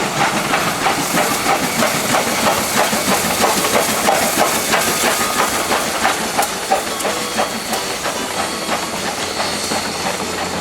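Great Smoky Mountains Railroad steam locomotive 1702 rolls past, close and loud, with hissing steam and a rapid, steady chuffing that runs on for several seconds.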